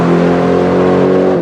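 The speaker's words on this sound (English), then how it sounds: "When Mercedes and McLaren built this Grand touring supercar, made it sound just like a vintage racing car." A Mercedes-Benz SLR McLaren grand touring supercar's engine revs loudly and up close, a steady deep throaty roar that holds for the whole stretch.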